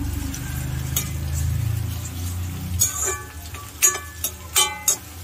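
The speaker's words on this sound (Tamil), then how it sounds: "வெங்காயம் நம்மளுக்கு நல்லா வதங்கணும்." Onions, garlic and curry leaves sauté in a pan for a Tamil Nadu style puli kulambu: a steady frying sizzle at first, then sharp clinks and scrapes of a spoon stirring at irregular intervals.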